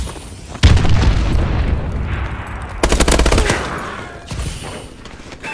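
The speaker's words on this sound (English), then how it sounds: "Take cover. Enemy missile strikes incoming." Missile strike explosions in a video game boom with a heavy blast, then a rapid volley of loud cracking bangs and rumbling blasts that fade and swell.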